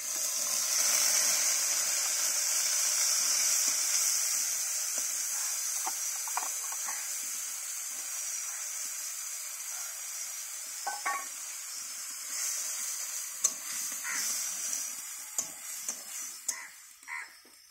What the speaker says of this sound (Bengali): মশলা করে রেখেছিলাম জিরে, আদা, পেঁয়াজ, রসুন, এবার দিয়ে দেবো।